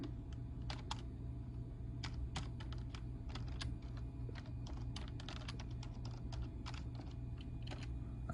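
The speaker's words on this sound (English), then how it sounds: "I'm going to log in using my Active Directory credentials" Rapid, irregular keystrokes on a computer keyboard while logging into an Active Directory account, the clicks close and fairly loud over a steady low room hum, continuing without pause.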